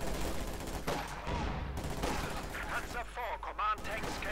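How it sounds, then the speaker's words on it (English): Submachine gun fire in the Company of Heroes 2 strategy game, rapid bursts of automatic shots crackling over a dense battle din of other gunfire and explosions, with a commentator talking over it. "Oh dear, getting up close with some submachine guns."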